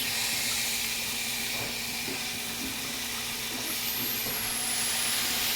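A broad, steady sizzle and hiss rises from a hot pan as about two kilograms of washed chicken goes into fried onions and chillies for a chicken curry. The sound stays continuous and fairly close, with no talking.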